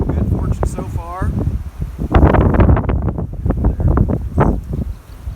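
Gusty wind buffets the microphone in a low, rumbling roar while someone talks over it during a bee swarm catch.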